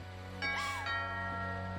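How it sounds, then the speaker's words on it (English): Doorbell in the video game What Remains of Edith Finch, a single two-tone chime ringing out briefly over a quiet, humming background. "Ding dong."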